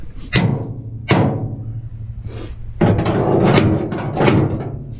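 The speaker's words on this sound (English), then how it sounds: "I'm going to hammer them in a little bit more, put a little more pressure on this." Metal pins being hammered into a bush hog stump jumper, with about six sharp ringing strikes at an uneven pace, some hitting in quick succession, loud and close with no talking.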